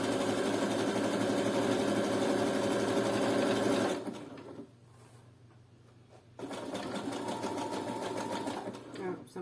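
A sewing machine runs a zigzag stitch down the edge of a string bikini, loud and close, in two steady bursts separated by a quieter pause of a couple of seconds.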